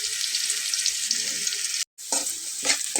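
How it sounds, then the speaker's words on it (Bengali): Chopped onions fry in a pan with a bright, continuous sizzle up close, briefly cutting out for a moment before the crackling resumes with a few soft knocks. "পেঁয়াজটা কিন্তু প্রায় ভাজা হয়ে গেছে।"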